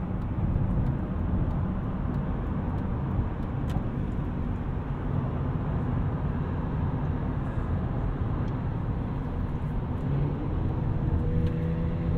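A 2001 BMW E39 M5 fitted with a full IPE exhaust drives along with a steady, deep engine drone and road roar at a constant cruise, heard from inside the car.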